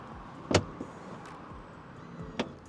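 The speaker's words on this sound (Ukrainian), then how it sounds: "Давайте глянемо, чи є дотяжки дверей." A BMW iX xDrive50 soft-close car door pulls shut with a soft mechanical thunk, then a quieter latch click a couple of seconds later, against low steady background noise.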